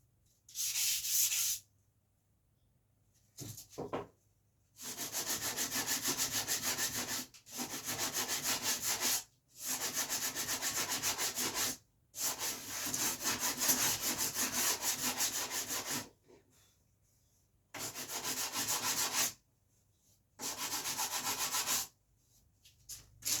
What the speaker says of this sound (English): That was 80 on a wooden sanding block.